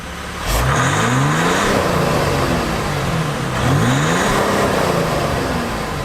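A 2020 Jeep Wrangler diesel engine revs up hard twice, each rising whine climbing in pitch then falling away, loud and close with a rough mechanical roar throughout.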